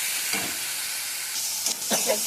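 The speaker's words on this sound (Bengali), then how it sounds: "মশলাটা এই ঝোলের সাথে এটা এবার মিশিয়ে দেবো" Fried spice paste is stirred into a bubbling fish curry gravy, giving a steady sizzling hiss with a few brief scraping stirs of the spoon, close and continuous.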